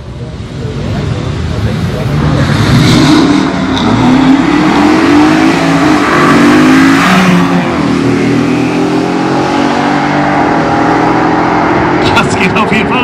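An Audi launches down a quarter-mile drag strip at Aldenhoven, its engine roaring loud and close and rising in pitch through the gears, with a voice talking over the steady roar.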